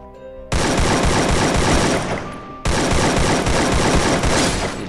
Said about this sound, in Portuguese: os caras estão metendo bala